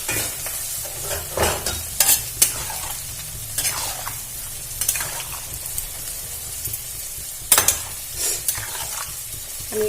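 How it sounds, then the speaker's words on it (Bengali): Pointed gourd and soya chunks fry in a pan as water is added and stirred in, giving a steady sizzling hiss with a few sharp scraping clanks of the spoon. "এবার এর মধ্যে জল অ্যাড করে দেবো। আমি এর মধ্যে জল অ্যাড করে দিলাম।"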